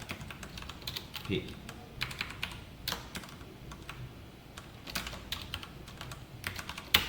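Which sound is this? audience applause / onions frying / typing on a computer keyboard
typing on a computer keyboard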